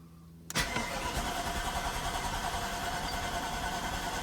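A 1991 Mercedes 500SL cranks on a cold start with an electrical fault: after a short quiet lead-in, the starter engages with a sharp jolt and keeps cranking in a steady pulsing churn, close and loud.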